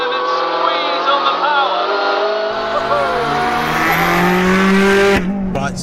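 Hyundai i30 N TCR race car on track, its engine droning loudly and steadily with rising harmonic tones as it powers out of a corner, someone talking over it throughout.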